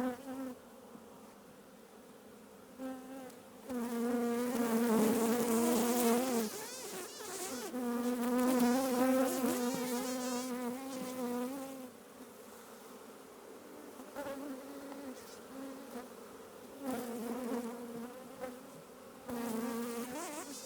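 Honey bees swarm around an opened hive in a city, their steady drone swelling and fading in waves as the colony stays active close by.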